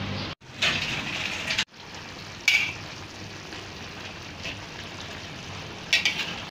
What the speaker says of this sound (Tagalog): Hayaan muna siyang kumulo ng kumulo hanggang sa medyo matuyo ng konti yung kanyang tubig